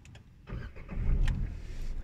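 A Nissan Magnite XE's engine cranks and catches about half a second in, then settles into a steady, close idle.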